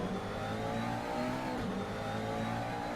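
GT3 race car engine at Mugello in a racing sim, droning steadily with rising and falling revs through the full stretch, loud and close with no talk over it.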